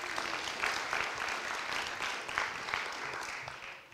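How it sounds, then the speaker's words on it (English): Sustained applause from an audience at a Montecito winter storm readiness meeting, a thick wash of many hands clapping at steady volume with no one speaking. "let's give her a round of applause too"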